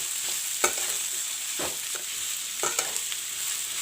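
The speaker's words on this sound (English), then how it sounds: "Fry the onions till it gets brown." Onions frying in a pan with bay leaves, a steady close sizzle broken by a few scraping stirs of a utensil against the pan.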